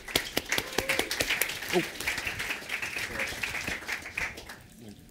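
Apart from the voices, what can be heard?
audience applause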